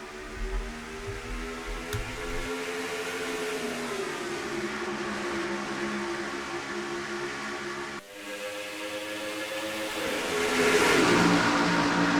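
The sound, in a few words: race cars at green flag in a racing video game, Darlington Raceway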